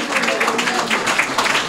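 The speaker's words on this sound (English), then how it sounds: "Y'all can clap for our brothers and sisters" An audience at a religious lecture gives a brief, scattered patter of clapping at moderate loudness, mixed with a voice speaking over it.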